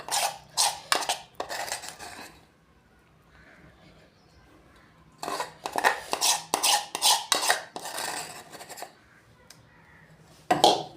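A spoon scrapes and clinks against a bowl in bursts as beaten hung curd is mixed into strawberry jam, with quiet pauses between stirring spells.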